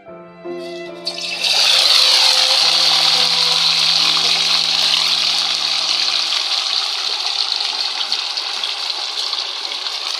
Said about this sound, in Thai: เดี๋ยวผมขออนุญาตทอดเต้าหู้ก่อนแป๊บหนึ่งนะ